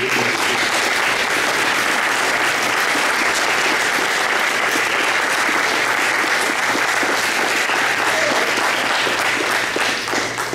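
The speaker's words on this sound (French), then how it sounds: "si vous pouviez vous lever, qu'on puisse vous applaudir vous aussi" Sustained audience applause at a press conference on the dissolution of the 5th World Acadian Congress, a loud, dense wash of clapping from a sizeable crowd that stays even and full throughout.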